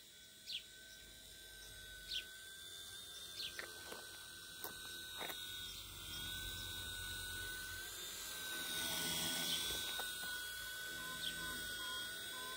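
A small C129 V2 remote-control helicopter hovers in place outdoors in light wind, a thin steady motor whine with a faint rising swell, quiet and somewhat distant, with a few brief chirps or clicks.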